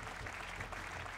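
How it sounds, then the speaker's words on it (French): Audience applause at an awards ceremony, a dense, even patter of many hands clapping, faint and continuous throughout. "Et on les applaudit."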